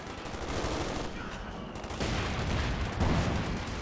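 Tank cannon and gun fire in Company of Heroes 2, with a Panzer IV and a Sherman tank exchanging shots. Dense, continuous battle noise with heavy low rumble, rising slightly in two surges.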